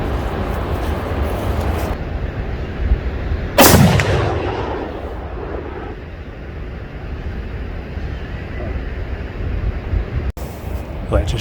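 A single sharp, loud unsuppressed gunshot from a Tikka 6.5 Creedmoor rifle with a short barrel firing 147-grain loads, cracking out once then decaying over steady outdoor background noise.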